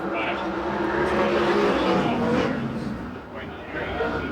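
USAC/CRA sprint cars racing at Perris, California, their engines roaring loudly and continuously beneath an announcer's running commentary.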